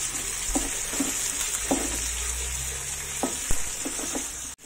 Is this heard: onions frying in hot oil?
yes